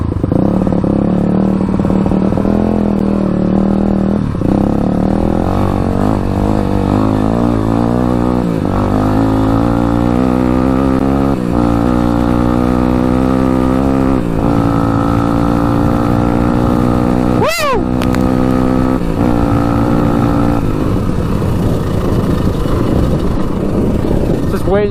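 A Honda 200X three-wheeler, ridden as a two-wheeled conversion, runs with a steady, loud engine drone whose pitch rises and falls through the ride, with a brief sharp whine partway through.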